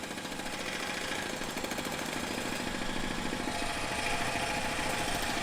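Construction work on SeaWorld's Icebreaker roller coaster rattles steadily in the distance, a faint continuous clatter that sounds like a jackhammer or engine-driven machine running without pause.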